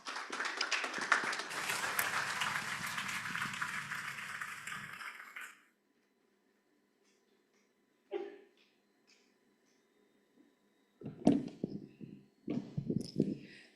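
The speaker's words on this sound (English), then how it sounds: "Let us all give her a warm round of applause." Audience clapping at a professional engineering conference session runs for about five seconds and stops abruptly, followed by near silence and a few short bursts of shuffling and handling sounds.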